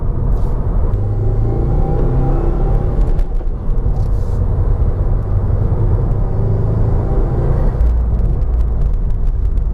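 A heavy turbocharged car climbs a hill, its engine giving a steady, loud low rumble under load for the whole stretch, with some wind and road roar and no talking.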